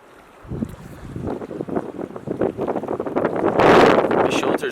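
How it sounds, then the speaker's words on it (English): Strong wind gusts roar and buffet the microphone at an open shelter in an island camp in Canada, rising to a loud blast near the end. "Man, the wind is whipping through here."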